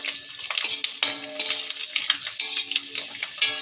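Papad frying in a pan of hot oil, with continuous crackling sizzle and bursts of bubbling, punctuated by a few light clinks and scrapes of a utensil, close and steady throughout.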